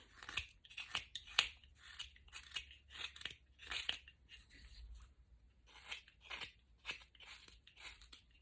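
A knife carves away the bill of a wooden decoy head, giving a close, quiet run of short scraping and snipping strokes in an irregular rhythm, with no talking.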